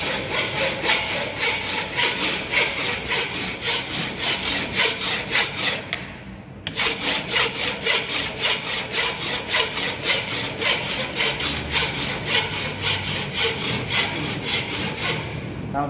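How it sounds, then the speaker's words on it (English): A hand file rasps back and forth across a metal workpiece clamped tight, in steady, even strokes that repeat closely and loudly, with one brief pause partway through and no voices. "Hold it tightly, then forward and backward direction. You have to file it."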